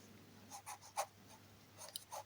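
A few quick, faint strokes of writing on a board during an English grammar lesson taught in Hindi, coming in short scratchy bursts in a quiet room.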